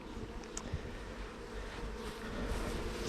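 Honey bees buzz around an open hive during an inspection in a heat wave, a steady dense drone of many wings close by, with occasional louder passes as single bees fly near.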